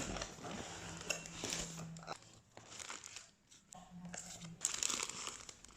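Paper sticker being peeled and wrapping paper torn open around a Johnny Loves Rosie vegan leather crossbody bag package; close, quiet crinkling and ripping in short bursts with pauses between.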